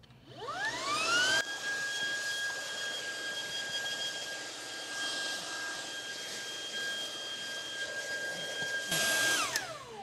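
Cordless Lupe Pure vacuum cleaner running on maximum suction with its upholstery tool, spooling up with a rising whine, holding a steady loud high-pitched motor drone, then winding down at the end; no talking.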